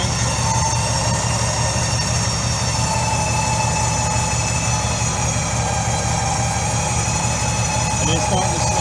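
Badland Apex 12,000 lb winch with synthetic rope drones steadily under load, a continuous loud motor hum with a gear whine, running without pause and slowing slightly, with a voice talking over it.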